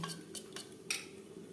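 A spoon clinks and scrapes against a pan while spices are stirred and mixed for a Bengali duck egg curry, a few soft taps in quick succession, quiet and close.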